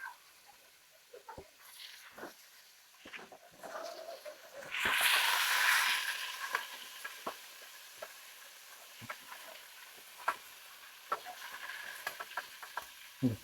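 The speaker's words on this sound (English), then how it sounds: "I'm gonna toss in my fish, and we're gonna fry it until it's a little brown" Opa fish frying in a pan, a soft sizzle with scattered spatters and light clicks from a spoon scraping underneath, swelling into a louder hiss for a moment before settling back to a quiet crackle.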